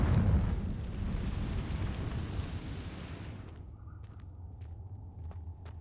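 Fiery Confringo spell blast in Hogwarts Legacy: a loud, broad rumbling explosion that swells at once, then thins into a fading low roar with scattered crackles and small pops.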